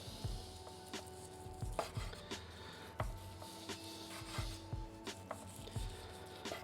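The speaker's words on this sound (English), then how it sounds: "Let's slice it" A knife slicing through a rested oven-roasted leg of lamb, with faint, close cutting strokes and light taps on a board recurring at a steady pace against a quiet hum.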